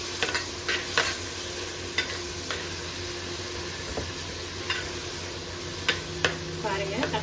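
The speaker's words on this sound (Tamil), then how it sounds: "பாருங்க, தக்காளி நல்லா வதங்கிட்டு இருக்கு." Tomatoes sautéing in a pan for fish curry give off a steady low sizzle, with a few soft clicks of a spoon stirring against the pan scattered throughout.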